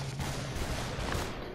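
Dense gunfire from the video game SUPERHOT fills the moment with a loud, continuous burst of overlapping shots and no voices.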